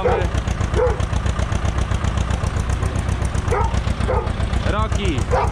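A farm tractor engine idling as it starts up for fertilizer spreading, a rhythmic low diesel chug throughout, with a dog barking several times nearby over it.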